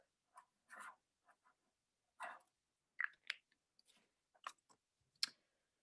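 A pen scratches on a piece of paper in short separate strokes and scribbles, quiet and close, with pauses of silence between them.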